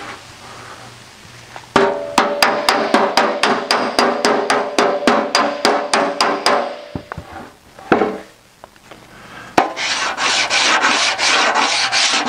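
Sheet-metal panel sanded by hand during metal fabrication with a shrinking disc, a fast series of loud rhythmic scraping strokes, then a pause with a few knocks and a steadier rasping stretch.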